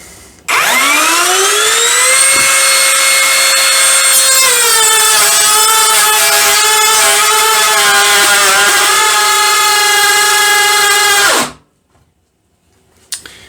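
A DEDRA DED7163 18V cordless brushless router spins up with a rising whine, then cuts wood in a loud, sustained high-pitched tone that wavers under load before stopping abruptly near the end.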